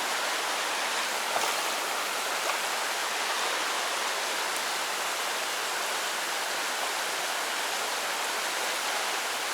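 Flowing creek water makes a constant broadband rush and babble, even and unbroken throughout, fairly close with no voices over it.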